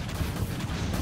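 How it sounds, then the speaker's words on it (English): Torpedo launch in the naval video game Dreadnought: a dense, sustained low rumble and roar fills the whole moment, steady and loud with no pause. "Torpedo away."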